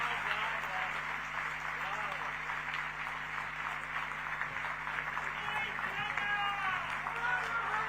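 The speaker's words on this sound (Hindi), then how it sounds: "कामा सेठ के लिए एक बार जोर से ताली बजा दीजिए जरा।" Audience at a documentary launch ceremony applauding for Kama Seth, a steady, moderately loud wash of clapping from a large crowd lasting several seconds, with some voices mixed in.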